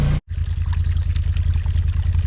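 Water rushes and trickles steadily in a small mountain creek at about 8,400 feet, a close, continuous broadband flow broken only by a brief gap near the start.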